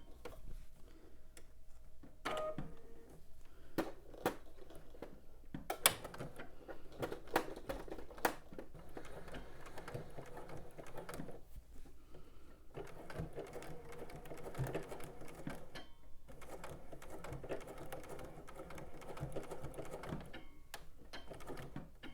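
A sewing machine stitches fabric in steady rapid runs with brief pauses, its mechanical ticking and whirring close and fairly quiet throughout, with no talking.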